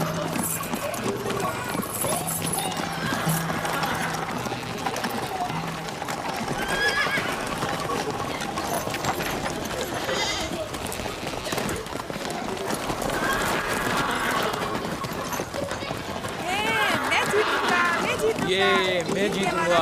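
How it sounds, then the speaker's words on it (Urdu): Horse hooves clip-clop steadily and a horse neighs several times, close and loud, with a crowd murmuring and voices in the background throughout. "جلدی کرو، میرا گھوڑا لے جاؤ"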